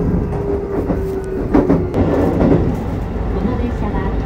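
A Keikyu Line rapid train bound for Shinagawa rumbles along with a steady low interior roar and faint rail clatter, heard from inside the car beneath an automated onboard announcement.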